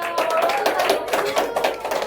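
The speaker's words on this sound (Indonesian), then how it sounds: "tepuk tangan buat Wanita" Scattered hand claps from a small classroom group applauding a student, a short irregular patter of taps at moderate level, with faint voices mixed in.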